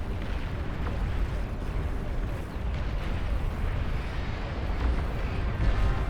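Divine missiles strike in a real-time strategy game, with a continuous, dense rumble of explosions rolling on for several seconds and deep booms piling up under a few sharper bursts.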